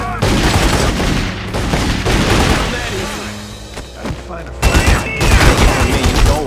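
Gunfire in The Godfather II video game, with repeated shots and bursts, thuds and chaotic in-game clatter. Voices are mixed in, and the firing grows louder toward the end.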